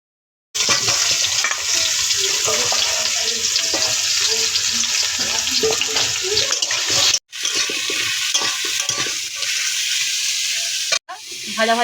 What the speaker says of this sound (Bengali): দেখুন বন্ধুরা তেল গরম হয়ে গেছে, আমরা কচুরলতি একটু হালকা করে ভেজে নেব।